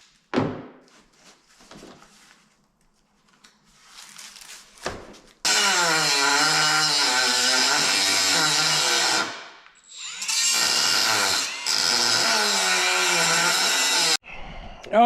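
An angle grinder grinds off Huck rivets on a metal truck visor in loud sustained bursts, separated by quieter pauses with small tool noises.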